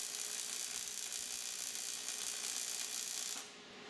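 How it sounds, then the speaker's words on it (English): AC TIG welding on a new fuel tank for a turbocharged 4WD Austin Mini GT-Four makes a close, steady buzzing hiss for about three seconds before it cuts off abruptly. "That's the first bit of welding on the new tank."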